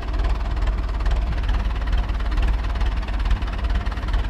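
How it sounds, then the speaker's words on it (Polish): An Ursus C-360 tractor engine runs steadily nearby, a low rumbling drone with a rough, knocking vibration and no voices. "Zobaczcie na ciągnik."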